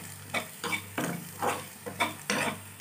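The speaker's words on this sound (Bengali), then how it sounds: "দিয়ে জাস্ট একটু নেড়ে দিচ্ছি" A spoon stirs coconut powder frying in oil in a pan, about six soft scraping strokes at an even pace over a faint sizzle, close up.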